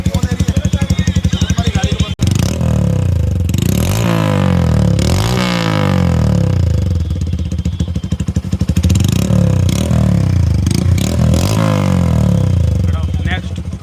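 Hero Passion Pro motorcycle with a Yoshimura exhaust and no dB killer, revving loudly and continuously with a deep, bassy note and repeated throttle blips over about fourteen seconds.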